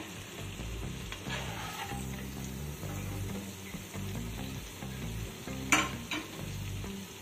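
Small hilsa fish frying in a spice masala gives a steady, close sizzle with occasional stirring scrapes, heard under background music.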